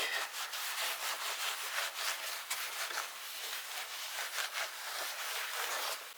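Polish rubbed by hand onto an old, weathered surface centuries old, a continuous close brushy rubbing with rhythmic back-and-forth strokes and no speech.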